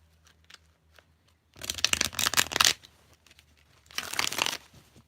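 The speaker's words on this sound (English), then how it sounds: "Last shuffle." Two bursts of tarot cards being shuffled, a long crisp riffle then a shorter one, close up with quiet pauses around them.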